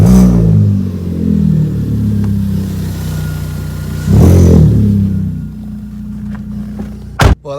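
A Vauxhall Vectra cranks and fires up, then settles into a rough idle with a couple of sharp revs rising and falling, loud and close, ending on a brief blip.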